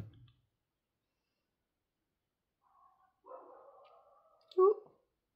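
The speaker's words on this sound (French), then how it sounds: "Les chiens du voisin qui rouspètent." The neighbour's dogs bark and yap in short, faint bursts from a distance, with a sharper yelp near the end over an otherwise quiet room; a muffled voice may be mixed in.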